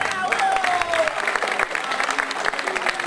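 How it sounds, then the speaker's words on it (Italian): An audience at an evening Palio event in Reino applauds a presenter taking the stage, a steady burst of clapping from a crowd with faint voices mixed in. "invito a fare un applauso"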